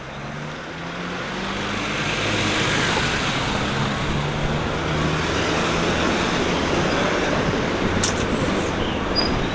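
A lorry passes along a village road in South Anston, Sheffield, making a loud, steady broadband roar of engine and tyres that swells and holds for several seconds, close by, with no talk over it.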